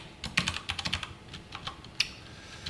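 Typing on a computer keyboard while entering React code, a quick run of light key clicks in uneven bursts with one sharper tap near the end, close and alone without speech.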